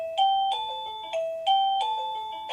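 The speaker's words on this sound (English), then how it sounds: "when the button is pressed on the doorbell, it now plays this sound" A Roybens musical doorbell chime plays a bright melodic tone pattern, clear bell-like notes repeating in rising and falling phrases, close and clean with no talk.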